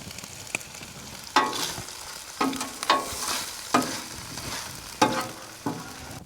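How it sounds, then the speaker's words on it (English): Food sizzles and crackles in a frying pan at an RV campsite, with a steady hiss broken by several louder bursts as it is stirred, close by and with no talking. "And just like that, there's no more sizzle."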